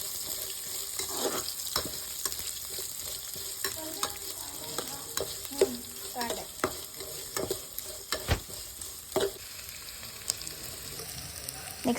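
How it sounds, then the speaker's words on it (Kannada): Sliced onion sizzles and fries in hot oil over a medium flame while cooking shavige bath, with steady crackling and repeated stirring scrapes across the pan, close and continuous throughout. "ನೆಕ್ಸ್ಟು ಈರುಳ್ಳಿ ಹಾಕ್ಕೊತಾ ಇದ್ದೀನಿ"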